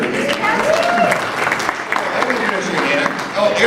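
A homeowners' association gathering in Palm Beach Shores applauds its social director, a dense burst of clapping from a seated crowd under a voice speaking over it.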